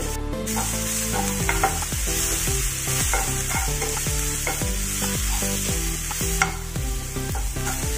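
Masala sizzles and fries steadily in a pan for street-style Mumbai vada pav, with stirring scrapes throughout and a steady tonal background underneath.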